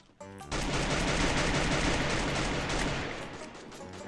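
Rapid bursts of gunfire ring out in the Free Fire shooting game, a dense, loud volley that sustains for several seconds and then fades.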